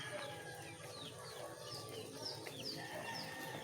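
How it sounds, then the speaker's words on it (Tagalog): Hungry pet chickens cluck softly in a yard after rain, a few short chirpy calls rising over a low steady background hum. "At mga gutom na yung ating mga alagang manok."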